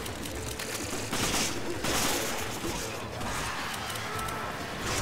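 Rapid bursts of Gatling gun fire rattle continuously, dense and noisy, without pauses, in Resident Evil 5's Mercenaries mode.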